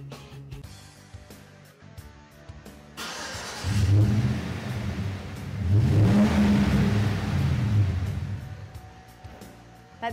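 A Chevy Silverado pickup with a Magnaflow aftermarket exhaust idles quietly with a throaty note, then revs up in two loud, deep surges before easing back down.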